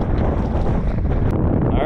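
Strong wind buffets the microphone over open water from a boat trolling for muskie, a constant rumbling roar with a faint high whine near the end.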